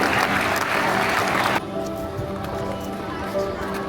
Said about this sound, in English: The clap કરો એ લોકો માટે